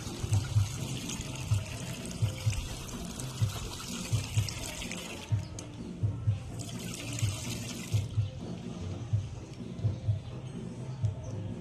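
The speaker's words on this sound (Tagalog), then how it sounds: "huwag ka maglaro ng tubig, Ton." A child plays in running tap water, with steady splashing and trickling broken by regular soft thumps, and no talk in between.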